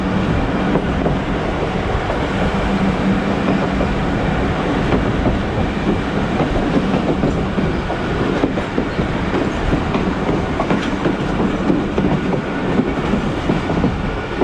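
A Thal Express passenger train travelling from Rawalpindi to Multan rumbles steadily and loudly from onboard, its wheels giving a continuous clickety-clack over the rails with no voices.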